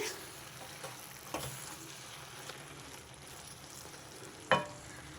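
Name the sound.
stirring chicken gongura curry in a pan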